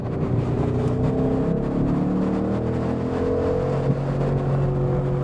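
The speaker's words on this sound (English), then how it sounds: "it's just going to be 10 minutes of engine noise" A Ford Mustang Boss 302 V8 engine drones steadily throughout, rising and falling in pitch as it revs, loud and close with a deep rumbling tone.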